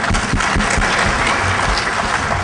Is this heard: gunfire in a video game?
no